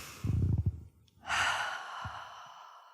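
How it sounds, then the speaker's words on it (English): A group of people taking a collective breath together: a soft rushing inhale, a pause, then a long airy exhale of overlapping breaths, fairly close and quiet. "So, another collective breath."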